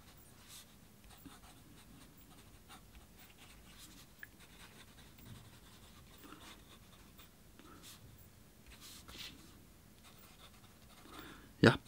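A Platinum #3776 Gathered fountain pen with a medium nib scratches faintly across paper in short, soft strokes, close and quiet, with a louder rustle at the end.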